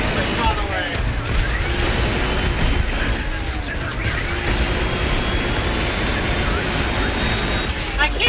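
Dense gunfire in the Starfield video game, a continuous barrage of shots and bursts with rumbling blasts filling the mix, loud and close, with voices speaking over it.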